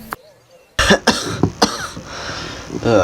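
Several harsh coughs burst out in quick succession, close by, followed by speech and more rough throat sounds.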